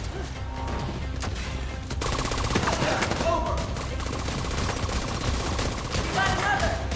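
Dense video-game gunfire and sniper shots crack and rattle in The Division 2 during the Summit floors, sustained bursts swelling louder after the opening seconds, close and continuous.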